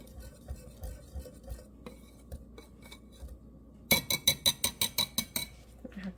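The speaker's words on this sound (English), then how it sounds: "we're just going to whisk those together just so that they're combined" Dry flour, baking powder and salt being whisked in a bowl: soft quiet scraping at first, then about ten brisk, evenly spaced metal-on-bowl clinks that grow louder as the whisking picks up.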